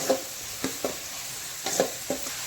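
Onions cooking in a pan with salt, a quiet low sizzle broken by several soft scraping stirs at an uneven pace.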